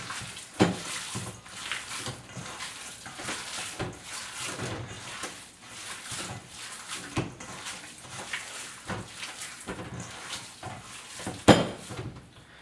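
Beef jerky strips tossed with seasoning in a bowl, producing irregular soft clattering and scraping knocks with a few louder clanks, close by and steady throughout.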